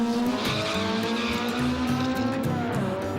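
Souped-up import cars racing at a local drag strip: a loud, steady engine roar with shifting revs and bursts of tire noise, close and continuous.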